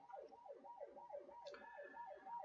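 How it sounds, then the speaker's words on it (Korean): An ambulance siren wails outside in a steady, repeating rising-and-falling rhythm, somewhat distant but clear, with a brief higher tone entering partway through; no talking. "저 밖에 사이렌 앰뷸런스 소리가 나는데"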